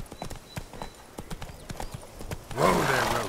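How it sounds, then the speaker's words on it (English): Video game horse hooves clip-clop along at a steady trot, then the horse gives a loud, close whinny as it is reined in to a stop. "Whoa there, Roach."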